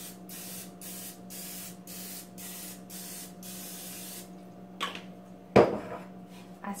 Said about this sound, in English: I sprayed my muffin tin really well with non-stick spray.